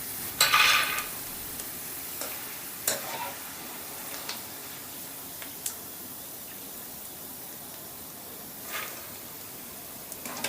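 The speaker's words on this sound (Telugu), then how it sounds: "మన కార్న్ అయితే డీప్ ఫ్రై అయిపోయిందండి ఇప్పుడు బౌల్లోకి తీసేసుకుందాం" Deep-fried crispy corn is lifted from hot oil into a bowl over a steady, moderate frying hiss, with a few faint scoops and clinks scattered through.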